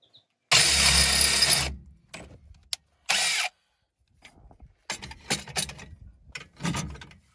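A hand crank mechanism is worked in bursts: a long loud ratcheting grind, a shorter second burst, then quieter clicking and clunking turns near the microphone.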